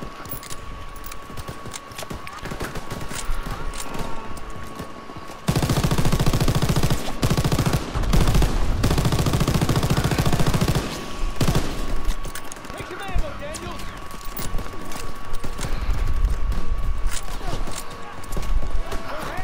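Machine gun fire in Call of Duty WWII rattles out in rapid bursts, loudest in a sustained middle stretch, along with hoofbeat-like clatter and a steady background tone, and a voice talks over parts of it.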